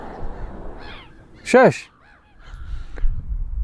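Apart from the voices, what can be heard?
birds calling on seaside cliff tops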